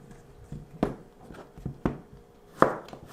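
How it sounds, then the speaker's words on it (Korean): A knife chops green pumpkin on a board: about half a dozen sharp, close thuds at an uneven pace, with quiet gaps between strokes. "자 재료를 한번 썰어볼게요."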